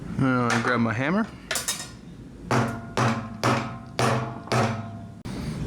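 Hammer blows on metal while building a diesel heater fuel tank for a Ford Econoline van conversion, a run of five or six loud, evenly spaced ringing strikes close by, with no talk.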